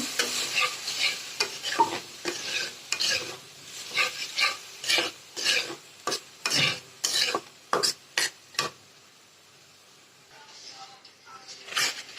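Dal frying and being stirred in a pan, with repeated close scraping strokes of a spoon and a steady sizzle that fades toward the end, where only a quiet hiss remains.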